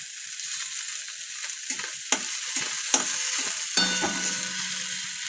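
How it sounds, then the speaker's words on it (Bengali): Fish belly pieces frying in a pan with onion and chilli, a steady close sizzle with occasional sharp crackles and spatters, no talk. "এই এখানে একটা মাছ ভাজা হচ্ছে পেঁয়াজ লঙ্কা দিয়ে।"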